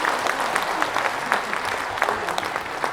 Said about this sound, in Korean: 여러분의 관심이 담긴 뜨거운 박수 감사합니다.